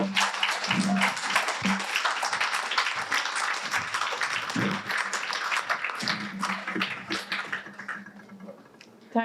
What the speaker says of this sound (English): Another round of applause for that performance, everyone.